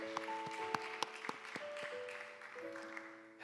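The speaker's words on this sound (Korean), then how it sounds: "우리 하나님께 영광의 박수를 한번 찬양할까요?" Church congregation clapping together in a large hall, steady scattered applause at moderate distance while sustained organ or keyboard tones ring underneath.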